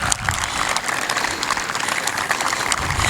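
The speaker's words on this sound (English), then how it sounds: "I just want to have everybody do another quick round of applause" A crowd applauding at a college senior student-athlete awards ceremony, continuous clapping from many hands filling the room at an even level throughout.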